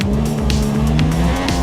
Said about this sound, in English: the car feels really good on the game